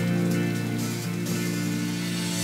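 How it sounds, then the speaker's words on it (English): Steady, loud rain in a Dynasty Warriors 8 game trailer, a continuous hiss mixed with a sustained tonal music bed, no pauses throughout. "This never-ending rain, too."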